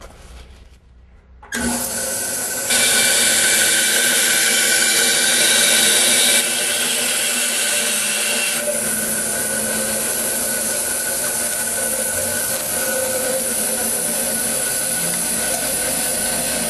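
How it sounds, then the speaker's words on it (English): A power saw cuts through pieces of wood in a workshop during a scarf-joint gluing job, starting abruptly after a quiet moment and running as a loud, steady whine for the rest of the stretch. "Now I'll go over to the saw and we'll cut these."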